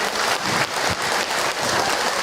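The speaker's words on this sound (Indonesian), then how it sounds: "Oke, tepuk tangan teman ya." A crowd applauds at an Islamic religious lecture, with dense, steady clapping that stays fairly loud and sounds like a rain-like wash through the whole short stretch, and no voices over it.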